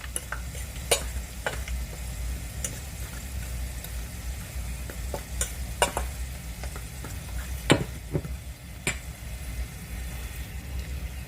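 A spoon stirs flour and Old Bay seasoning together in a bowl for Jamaican-style bar-b fried wings, with soft scraping under a steady low hum and a few sharp clinks against the bowl.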